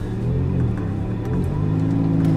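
A Lamborghini Gallardo set to automatic pulls away, its engine giving a low, steady rumble that rises slightly as the car begins to move off, heard close up with nobody talking.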